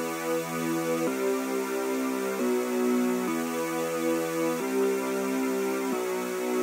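Sustained synth chord from a software preset in a trap beat style, held notes shifting to new chords about every second or so, steady and loud with no drums or voices.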